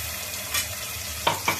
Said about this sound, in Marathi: लसूण, हळद घालून फोडणी दिली।